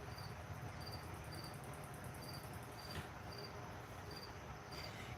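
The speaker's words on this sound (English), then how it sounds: "Can you guys hear that goddamn cricket?" A cricket chirps in short, regular bursts, high and clear over a faint background hiss, repeating steadily throughout with no talking.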